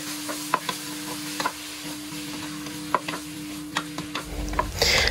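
One kilo of beef going into a pan of sautéed garlic and onion for beef kaldereta, with light stirring clinks and scraping over a low steady hum, ending in a louder sizzling rush as the meat lands.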